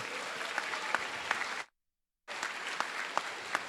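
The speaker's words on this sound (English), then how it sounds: "Let's not only give Mr. King a round of applause" Middle school audience applauding at a ceremony, sustained clapping from a large group, broken by a short silent gap before resuming at the same level.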